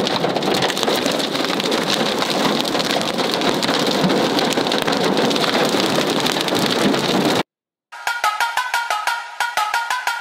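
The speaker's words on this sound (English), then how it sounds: "Why does that rain right now, why?" Steady heavy rain hisses and patters close by on a Chicago street for several seconds, then cuts off abruptly into a different noisy stretch.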